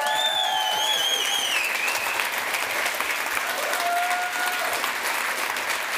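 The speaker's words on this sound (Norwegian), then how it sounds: "Stor applaus!" Big round of applause from the audience at a launch party for a book and film, a steady close crackle of many hands with a few whistles rising over it.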